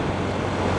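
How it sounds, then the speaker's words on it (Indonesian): Fresh mountain wind rushing past a motorcycle rider on the road toward Kaliurang near Mount Merapi, a loud steady buffeting roar against the microphone with no talking. "anginnya pun seger, angin pegunungan."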